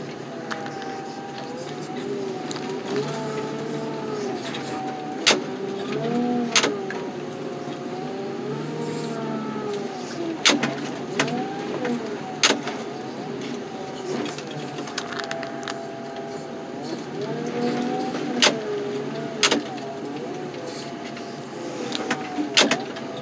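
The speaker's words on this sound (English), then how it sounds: "car crushing." A car crusher flattens a junked Ford Taurus at a scrapyard, giving a steady mechanical grinding drone with sharp cracks and pops of breaking metal and glass scattered throughout, fairly close and continuous.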